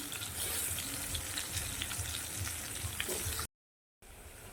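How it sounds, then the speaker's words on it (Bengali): Potato pieces frying in hot oil give a steady, dense crackling sizzle close by, broken by a brief silent gap before it resumes. "আলুটা আমি দিয়ে দিচ্ছি তেলে আলুটা আমি ভালো করে লাল লাল করে ভেজে নেব"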